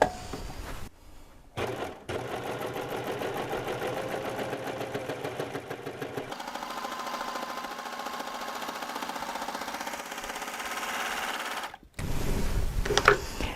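A serger stitches a rolled hem seam for heirloom sewing, its steady rapid mechanical whirr running continuously through most of the stretch, with brief pauses at the start and near the end.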